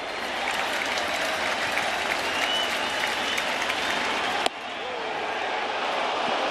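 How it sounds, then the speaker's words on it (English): A baseball crowd at Yankee Stadium, on its feet, roars and claps in a steady, dense wash of cheering that holds throughout, dipping briefly near the end before swelling again. "The crowd on its feet, looking for one more out"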